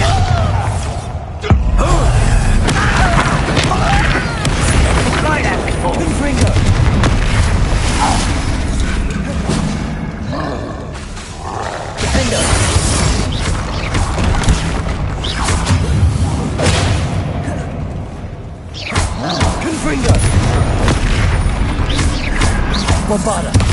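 Bombarda blasting spell explosions in Hogwarts Legacy gameplay, repeated heavy booms and rumbling crashes layered with mechanical clatter and battle noise, loud and dense over the whole stretch, with voices shouting spell names mixed in.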